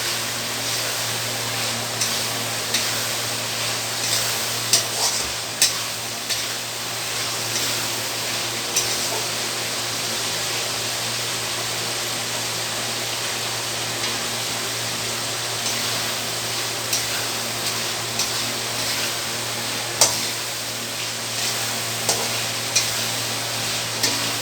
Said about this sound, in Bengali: আমার আলু, ঝিঙে, মাছ সবই আমার একসাথে কষানো হয়ে যাচ্ছে